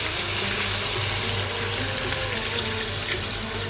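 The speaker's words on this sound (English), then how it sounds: "Next up, I'm going to add some stock. I'm going to be using some chicken stock." Chicken stock pours steadily into a pot of lamb stew, a continuous rushing, splashing stream of liquid with no talking.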